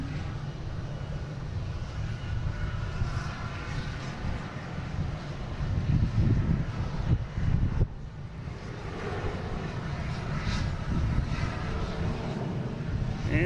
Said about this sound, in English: there's Delta coming in from San Antonio, a A220 flight 816.